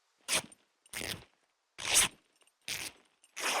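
In the video game Scum, clothing is cut into rags with five separate quick tearing, scraping bursts at roughly even intervals, each loud and close, with quiet gaps between them.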